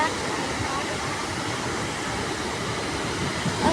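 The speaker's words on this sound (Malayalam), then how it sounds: "ഷട്ടറിൽ നിന്നാണ് വെള്ളം വരുന്നത്." Water rushes hard from beneath a dam shutter, a loud, continuous roar of churning flow at close range, with no clear talk.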